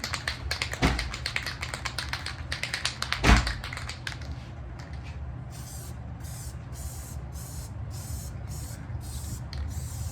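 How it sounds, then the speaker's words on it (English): A can of spray adhesive rattles in quick repeated shakes, followed by a series of short, evenly spaced hissing bursts. "And shake it up like it's a can of spray paint."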